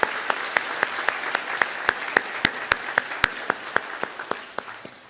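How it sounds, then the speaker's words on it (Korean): A church congregation at a Sunday worship service claps to bless the children, sounding as a sparse, fairly quiet ripple of applause with distinct individual claps spaced through a soft, steady wash. "우리 박수로 우리 자녀들 축복해 주시기 바랍니다"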